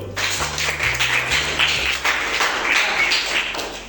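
A classroom of students claps hands in a lesson, a fairly loud, close burst of brisk clapping with a few soft thumps and low tones at the start, ending after about four seconds.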